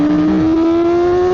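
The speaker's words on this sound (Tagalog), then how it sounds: "sobrang ingay talaga ng motor na to" A Kawasaki ZX-4RR motorcycle engine holds a loud, steady high-pitched drone close by, with a brief rise in revs near the start, while riding along a road past an open canal.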